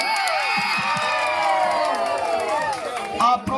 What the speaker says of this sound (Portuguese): Salva de palmas para a terceira colocada, Wanda